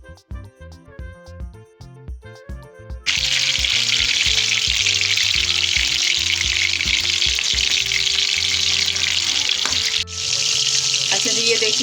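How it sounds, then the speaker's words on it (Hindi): Chicken koftas drop into hot oil and start a loud, steady sizzle, continuing close and dense for several seconds after some clinking, with one short break near the end; no talking is heard. "अब हम मसाला भूनने से पहले अपने कोफ्तों को फ्राई करते हैं"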